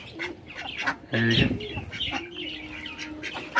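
Pet pigeons in a cage at feeding time give a short burst of throaty, bird-like calls near the middle, with light rustling around them and a person speaking briefly.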